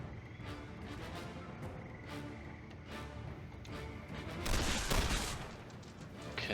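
Gunfire in The Lamplighters League turn-based game, quiet spaced shots over a low soundtrack, building to a louder burst near the end.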